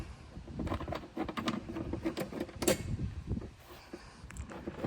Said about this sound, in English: This cover here pops off.